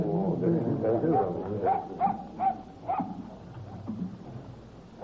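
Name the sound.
dog whimpering and barking while digging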